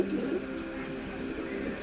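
A female pigeon coos softly and briefly in a loft, a faint, low murmur with no talk.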